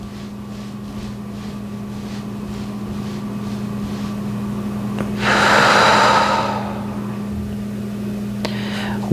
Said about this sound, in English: Nice breath in through the nose